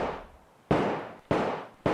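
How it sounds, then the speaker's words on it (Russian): Revolver gunshots: three loud, sharp bangs at uneven intervals, each followed by a long, fading reverberant tail, with no voices. "Уже во время беседы с послом Блюмкин выхватил револьвер и открыл стрельбу."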